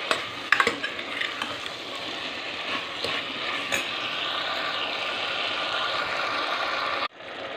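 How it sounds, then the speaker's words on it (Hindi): Potato pieces frying in oil in a pan for potato sabzi, with a steady close sizzle and a few sharp clinks of a spoon stirring at the start before the sound cuts off near the end. "ये आलू को 2 मिनट के लिए हम फ्राई कर लेंगे तेल के साथ।"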